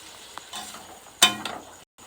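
Boiled potatoes and peas being sautéed in a pan, a soft sizzle with a sharp stirring clack and a few scrapes, close and short.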